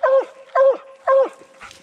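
A coon hunting dog out on a night hunt gives three loud, evenly spaced bawling barks close by, followed by a fainter, shorter yelp.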